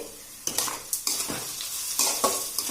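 Onions and green chillies, already browning, sizzle in a pan while a spoon stirs them, scraping the metal in several distinct strokes over a steady close frying hiss, with no talking.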